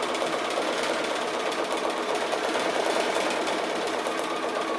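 Sewing machine stitching fabric, a fast steady mechanical rattle of needle strokes running continuously at close range.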